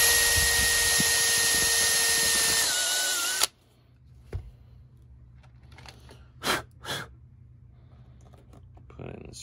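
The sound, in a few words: drill driving screws into arena panel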